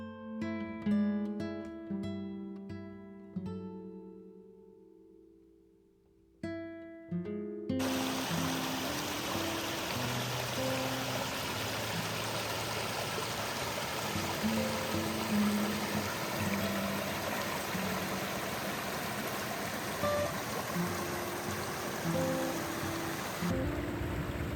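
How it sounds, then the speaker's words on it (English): Soft piano notes play briefly, then a continuous rushing of a small waterfall takes over on a trail in Rockport State Park, steady and fairly close, with no voices. "It's a beautiful bridge and a really cool little waterfall."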